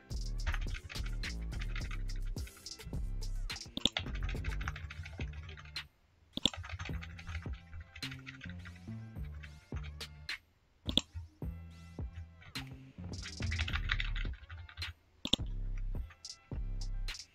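Rapid, uneven keystroke clatter on a computer keyboard while typing an address into a business card layout in Microsoft Word, with bursts of clicks separated by short pauses, close and fairly clear.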